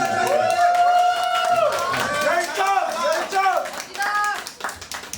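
An audience at a live band performance claps for a male vocalist after a broken guitar string, the clapping partly buried under loud, wavering voices calling out over it.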